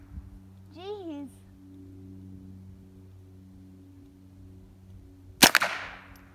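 A single loud, sharp gunshot cracks near the end during target shooting, following a brief vocal sound and a quiet stretch.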